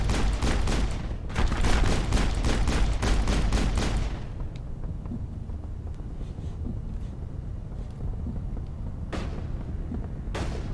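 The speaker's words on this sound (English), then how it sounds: "Who is shooting me? Oh, you're shooting me." Loud bursts of rapid gunfire from the Mass Effect video game, dense repeated shots for about four seconds, then a low rumbling lull with a couple of sharp single shots near the end.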